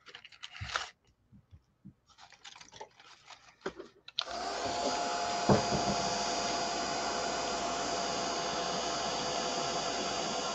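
After a few seconds of soft handling noises and scraping, a handheld dryer switches on to dry artwork and runs with a loud, steady whirring roar until the end, close to the microphone.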